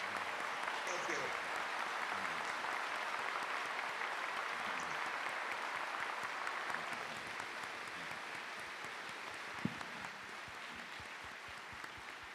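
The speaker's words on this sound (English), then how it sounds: "Let's give Warren a huge, big round of applause" Applause for Warren Buffett at the Montana Economic Development Summit: a large audience clapping steadily for the full stretch, a dense, fairly distant wash that thins slightly toward the end.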